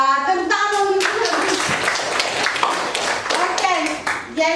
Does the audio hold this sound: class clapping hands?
yes